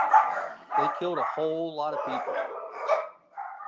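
Dogs bark and yip close by in a home, a run of sharp barks and a drawn-out whine-like bark, heard under someone talking steadily.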